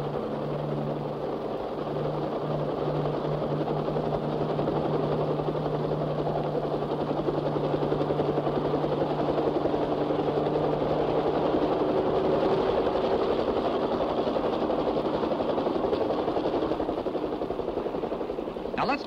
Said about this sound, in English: This tiny control stick can fly the pilotless copter in any direction.